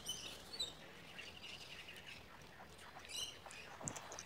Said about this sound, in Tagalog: Yung naririnig mo mga uni ng ibon, yes po, marami talagang ibon dyan sa mga puno na nadaanan namin.